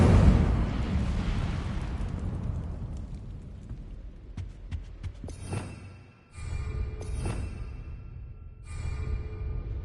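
A roaring fire blast from the Incendio spell in Hogwarts Legacy booms loudly, then fades into rumbling crackle broken by a few sharp bursts.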